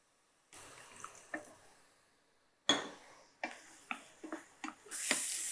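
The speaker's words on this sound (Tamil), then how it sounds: "இன்னும் கூட கொஞ்சம் லைட்டாக தண்ணி ஊற்றலாம்." A little water goes into a pan of ground coconut paste for mango pachadi, with a burst of splash and hiss followed by a run of short clinks and drips that ends in rising sizzle.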